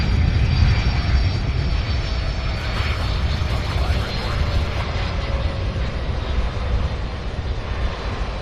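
UPS cargo flight 2921 arrives from San Diego at Louisville airport, a loud continuous jet engine rumble and roar that stays close and steady, with faint voices partly under it.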